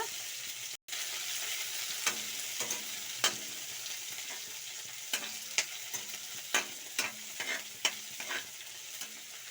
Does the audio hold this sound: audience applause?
no